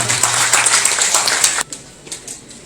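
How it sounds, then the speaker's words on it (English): Audience applause at an NGO foundation day closing ceremony rings out briefly and briskly, then cuts off abruptly, leaving a few scattered claps. "Can I have a big round of applause for her, everyone?"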